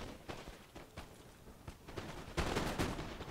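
Infantry musket volleys in Napoleon: Total War, a sequence of sharp, scattered gunshot cracks growing into a denser, louder fusillade toward the end, heard at a moderate distance without talk.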